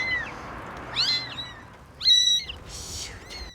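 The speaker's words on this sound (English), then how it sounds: "I think I hear kittens." Several high, thin kitten meows come in short bursts over a quiet background, some overlapping, close by.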